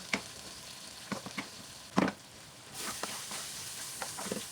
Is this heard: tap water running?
no